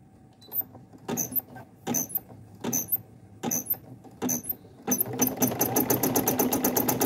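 A single-needle embroidery machine stitches a design, first in short bursts of rapid mechanical chatter separated by pauses, then in a steady, continuous run of fast rhythmic stitching.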